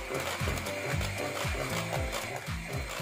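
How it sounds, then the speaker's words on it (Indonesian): An electric mixer on low speed beating red velvet batter, whirring close with a repeating rhythmic swish as the beaters circle the bowl. "Mixer dengan kecepatan rendah hingga tercampur rata"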